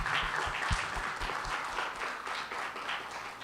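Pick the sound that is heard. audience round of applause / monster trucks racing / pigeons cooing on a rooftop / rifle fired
audience round of applause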